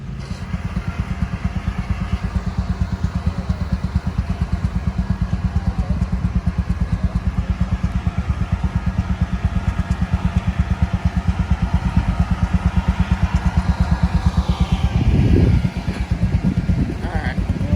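An old steam engine chugs at the Clarksville steam and engine show in 2025, giving a steady, fast mechanical pulse that runs throughout at close range. A brief louder clatter comes near the end.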